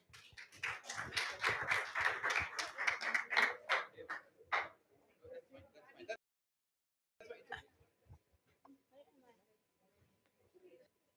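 Audience clapping for a fifth-grade girl after her Hindi poem recitation at a cultural program, a burst of claps lasting several seconds, then tapering into scattered faint claps and quiet.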